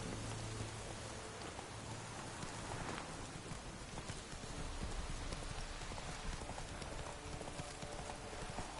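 Geralt's horse Roach clip-clopping at a trot through steady rain in The Witcher 3, hooves beating a regular rhythm beneath a dense, loud hiss of rainfall.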